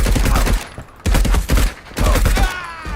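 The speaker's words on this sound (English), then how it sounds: "Oh, more gunfire." Repeated bursts of gunfire ring out in the video game Marauders, with several loud volleys separated by short pauses and no speech over them.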